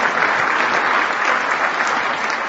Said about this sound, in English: yes, it does deserve a round of applause, and Chris Quinn's leading it